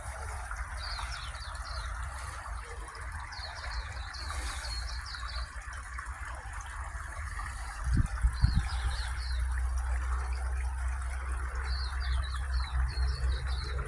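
Birds chirp in repeated short bursts at a distance during an outdoor nature walk, over a steady low rumble of nearby traffic, with a brief louder thump in the middle.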